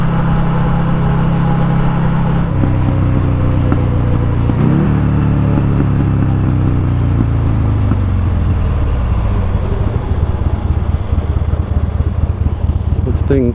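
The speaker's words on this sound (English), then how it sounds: "This thing is running through the gears real nice." A vehicle engine accelerates through the gears, its droning pitch climbing and then dropping at each shift, loud and steady under a constant roar of wind.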